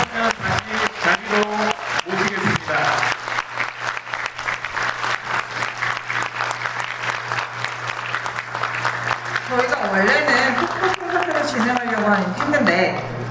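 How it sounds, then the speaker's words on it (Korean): An indoor audience at a ceremony gives sustained applause, dense and loud, with a voice speaking over it near the start and a steady hum underneath. "큰 박수 부탁드립니다"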